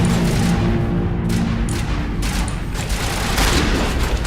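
Shotgun blasts from an angry woman in a video game, heavy booming shots close together over a loud, dense wash of game noise with no pause between them.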